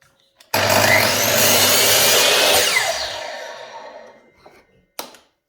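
A miter saw cross-cuts wooden rails and stiles for a raised-panel door: a loud, close, roaring cut of about three and a half seconds that fades as the blade spins down, then a brief clack.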